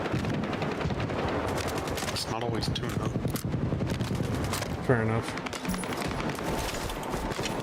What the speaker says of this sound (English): I wasn't hearing any of these gunshots till I got, like, you know, next to the building.